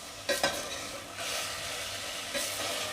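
Lotus root fries in a pan, giving a close, steady sizzle with a couple of sharp scraping strokes of a spatula near the start and another toward the end.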